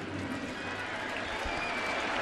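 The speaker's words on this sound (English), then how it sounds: "You're going to hear a boo and a cheer here, all in the same walk." Baseball stadium crowd at a Yankees home game, a dense, steady roar of cheering and booing from thousands of fans heard from a distance, sustained throughout without pause.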